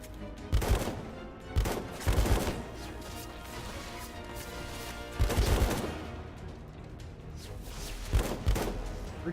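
Loud bursts of gunfire from a hard-recoiling gun in the video game Left Alive, about five separate volleys of rapid shots with short pauses between them, close and punchy over a low ambient rumble.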